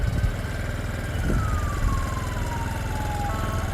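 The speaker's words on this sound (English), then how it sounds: "And I'm hearing the police siren right now." A police siren wails in the distance at a cycling race start, its pitch sliding slowly downward over a steady rumble of an idling engine nearby.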